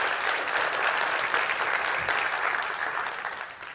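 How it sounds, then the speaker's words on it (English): Applause from an audience at a leadership training conference in Indonesia, a dense, even roar of many hands clapping that holds steady and eases slightly at the end. "give her a big round of applause"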